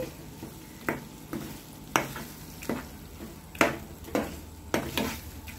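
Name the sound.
asafoetida, turmeric and curry leaves frying in oil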